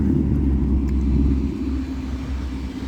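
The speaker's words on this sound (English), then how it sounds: "Some muscle cars driving by." Deep engine rumble from passing cars fills the clip, a continuous low growl that stays loud throughout.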